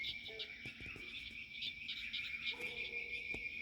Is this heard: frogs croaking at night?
yes